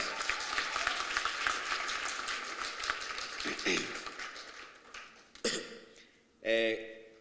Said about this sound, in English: Let's give Mabuto a round of applause.